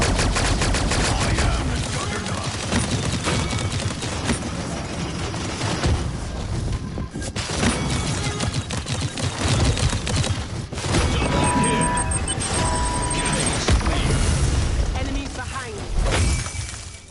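Rapid gunfire and bursts from a video game shooter, dense and loud throughout, with a player talking over the shots.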